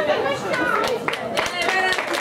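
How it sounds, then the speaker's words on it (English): Scattered clapping and crowd chatter rise at an awards night for a ladies' football team, loose and moderately loud, with voices mixed in. "A big round of applause for the ladies' team."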